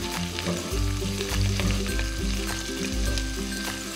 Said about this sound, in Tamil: இப்போ ஆனியனுக்கு தேவையான சால்ட்டை போட்டு இதை வதக்கிக்கலாம்